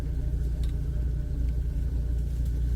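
A 2001 Jeep TJ engine braking on an off-road trail gives a steady low rumble that stays close and even throughout, with no voices over it.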